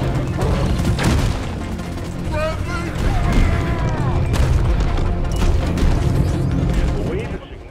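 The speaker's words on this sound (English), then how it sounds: "there's one of those big explode things" An exploding enemy blows up in Deep Rock Galactic, heavy booms bursting through dense game noise with rattling gunfire and mechanical clatter throughout, loud and close.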